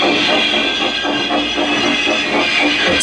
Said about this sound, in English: Thomas pushed and puffed and pushed as hard as ever he could.